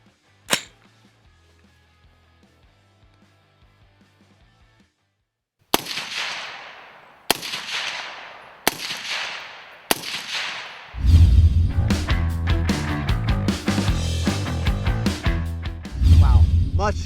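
Suppressed gunshots through an AAC Ranger series silencer, first a few sharp single shots spaced apart, then a rapid, loud full-auto string of muffled reports ringing close by.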